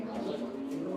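Pigeons cooing at close range, a brief, dense, low throaty murmur filling the whole moment.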